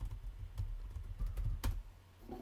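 Quiet keystrokes on a computer keyboard while entering product import details, a few sparse clicks spread over a couple of seconds against a low background hum.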